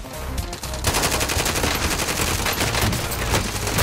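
Sustained automatic gunfire in a video game, a loud, close machine-gun stream of rapid shots that starts after a brief lead-in and runs without a break.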